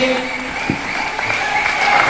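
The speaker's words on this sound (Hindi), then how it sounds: "भाई हमारी इस जोड़े के लिए बहुत सारी तालियां होनी चाहिए।" A studio audience at a TV game show, Geo Inaam Ghar 2016, applauds a couple with a steady, continuous wash of clapping that carries from start to finish, with faint tonal sounds in the background.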